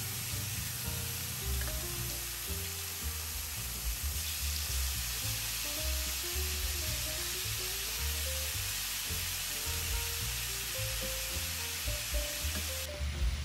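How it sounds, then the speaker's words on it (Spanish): Carne asada beef sears over high heat in oil in a preheated pan, giving a steady, close, dense sizzle that continues without pause while soft background music plays beneath it. "voy a cocinarla en un sartén ya precalentado, voy a añadir aceite y voy a colocar la carne y la voy a cocinar a fuego alto"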